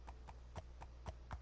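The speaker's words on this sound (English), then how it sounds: "I'm on a slow horse, man. This horse is so slow." A slow horse trots through a Greek mythology setting in a PS4 video game. Its hooves clip-clop in a steady, even rhythm of about four beats a second, faint and alone, with no talking.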